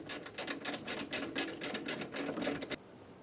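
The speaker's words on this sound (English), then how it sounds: "We're going to remove 10mm bolts for this power steering bracket." Rapid ratchet clicking as 10mm bolts are backed off a power steering bracket on a 2003-2008 Honda Pilot, a steady run of close mechanical pawl ticks for most of the clip before stopping abruptly.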